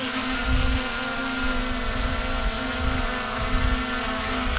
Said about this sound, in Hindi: तो देखो आम ड्रोन टेकअप होगा।